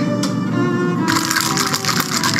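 Ice shaken hard with bourbon in a cocktail shaker, a loud continuous rattling crunch that sharpens and grows busier partway through, with no talk.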